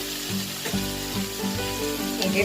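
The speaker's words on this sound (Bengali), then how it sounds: "আমার ঢ্যাঁড়স ভাজিটা হয়ে যাবে ঢ্যাঁড়স ভাজি হতে খুব বেশি সময় আমার লাগবে না" Okra frying in a pan, a loud continuous sizzle close by, with stirring bumps and scrapes recurring at a roughly regular rhythm and no voices.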